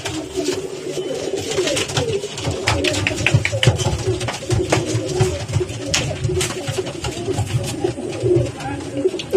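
Pigeons in a new loft coo in a dense, continuous chorus, soft throaty calls overlapping closely, with scattered rustling and flapping throughout.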